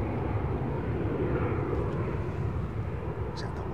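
A Boeing 787-8 airliner at Chicago O'Hare airport gives a steady, loud, broad jet engine roar throughout, with people talking over it.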